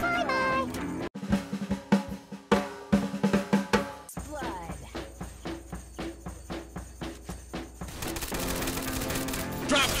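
Free Fire video game gunfire rings out as a series of loud, sharp shots in quick succession, then gives way to a denser stretch of game sounds and music.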